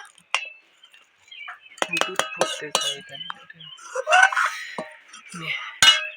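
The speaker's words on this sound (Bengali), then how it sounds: "আমি টক দইটা একটু ফাটিয়ে নেব ভালোভাবে দু মিনিট ফাটাবো" A utensil clinks and scrapes against a bowl while sour curd (yogurt) is whisked, giving irregular bursts of sharp taps and clatter, with a voice speaking between the strokes.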